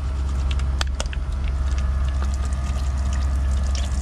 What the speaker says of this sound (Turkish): Güzelce böyle iş bitiminden sonra ellerimi yıkıyorum.